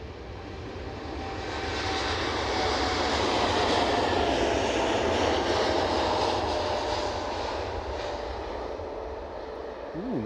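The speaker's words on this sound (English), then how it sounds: "very early for the Qatar Dreamliner in terms of rotation." A Qatar Airways Boeing 787 Dreamliner takes off at Edinburgh Airport, its engine roar swelling to a loud, broad sustained rumble, then easing slightly as it climbs away; no talk.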